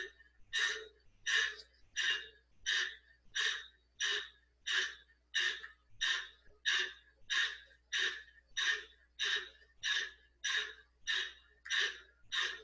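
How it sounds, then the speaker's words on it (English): A man demonstrates a rhythmic breathing exercise taught for healing, drawing about seventeen strong, evenly spaced breaths in steady succession, close and clear, with no talking. "I think he is the best demonstrator for this breathing."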